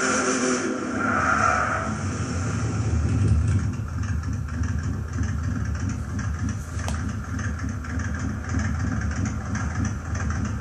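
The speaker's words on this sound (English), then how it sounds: "I like the sound of it idle." A 1970 Dodge Charger 440 R/T in Gran Turismo 6 idles with a deep, rough muscle car rumble, steady and close, with a slight lope and a faint whine early on.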